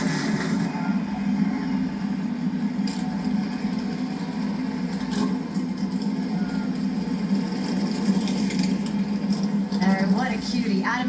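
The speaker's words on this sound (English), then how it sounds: "Gentlemen, Start your engines!" NASCAR Cup Series stock cars at Atlanta fire up together into a dense, steady engine rumble and idle that fills the track, with a voice speaking over the roar.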